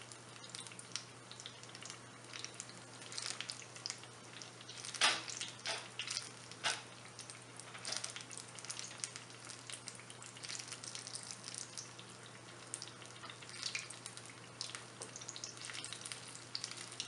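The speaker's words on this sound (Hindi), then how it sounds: "सारे आलूओं पर हमने इसी तरह से बेसन का बैटर लगा कर फ्राई कर लेना है।" Gram flour batter-coated potato pakoras fry in hot oil with a steady, soft crackling sizzle, and a few sharper pops stand out over a low constant hum.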